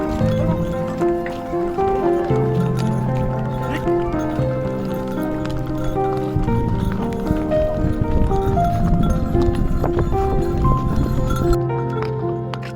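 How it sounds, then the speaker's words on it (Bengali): Horses walk along a mountain trail at Sonamarg, Kashmir, hooves knocking out a loose, uneven clip-clop close by, with scuffs, rustles and a faint whinny mixed in over steady ambient noise. "আশেপাশে ঘোড়াগুলো আসে তো এখানে"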